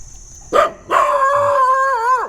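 A dog in southern Thailand gives a close, loud bark, then a long rising-and-falling howl that swells and drops off at the end, with no talk over it.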